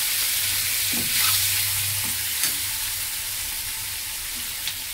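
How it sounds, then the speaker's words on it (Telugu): Curry of brinjal and dried fish frying in hot oil in a pan, a steady close sizzle with a few clinks of stirring, no talk. "చూడండి ఫ్రెండ్స్ వేగుతున్నాయి"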